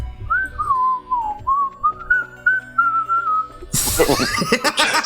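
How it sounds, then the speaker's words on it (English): A person whistles a wavering, sliding tune close to the mic for about four seconds, then it breaks off into loud, noisy laughter and commotion. "why are you whistling?"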